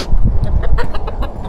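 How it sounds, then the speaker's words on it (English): Chickens clucking near an old Land Rover on a farm hillside, a loud close run of short, choppy clucks and squawks coming in quick irregular bursts with no talk over them. "Chickens are back."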